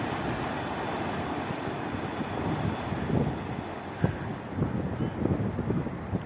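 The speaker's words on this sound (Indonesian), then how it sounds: "Ombaknya sangat besar." Large ocean waves roll in at Bengkulu beach, with strong wind buffeting the microphone into a steady roar and heavier surf surges breaking near the end.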